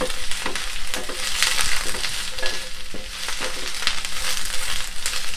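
Onion and capsicum stir-fry over a high flame for baby corn chilli. A loud, continuous sizzle carries repeated tossing and stirring clatter throughout, with no voices.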